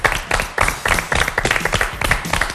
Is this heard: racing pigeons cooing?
no